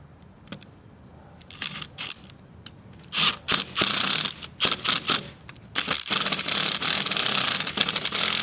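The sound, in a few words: outdoor faucet being screwed into place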